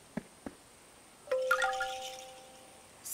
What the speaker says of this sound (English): Is Zebby's doorbell broken? No. It's just too quiet